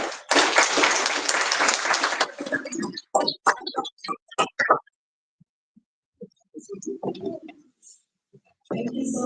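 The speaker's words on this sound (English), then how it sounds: "a round of applause again for the country" Applause from a conference audience at the Mining Indaba in Cape Town, loud and dense at first, then breaking up into scattered claps and fading into near silence before a few more claps return.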